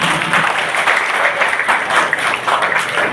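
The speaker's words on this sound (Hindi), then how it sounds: "एक बार ताली सबके लिए एक साथ बजा दें" Audience applause at a public community event in a hall in Ambikapur, India: steady, dense clapping from a sizable crowd, sustained and fairly loud throughout with no speech over it.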